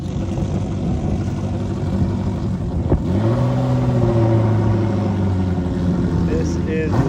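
A Ferrari 360 rolls onto the field at a Cavallino gathering, its engine a steady close rumble with a rising rev partway through, while people talk over it.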